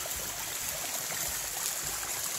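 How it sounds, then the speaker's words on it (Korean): A small waterfall in a hidden mountain valley in Gapyeong, Gyeonggi-do, pours in a constant, close, bright rush of water, unbroken and with no voices over it. "아까 흐르던 폭포도 계속 이렇게 흐르고 있는"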